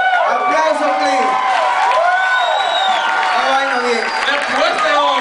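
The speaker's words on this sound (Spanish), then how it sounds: "¡Aplauso, please!" An audience at a live banda show in Montemar la Colina cheers and applauds, with whoops and shouts swooping over continuous clapping, loud and crowded throughout.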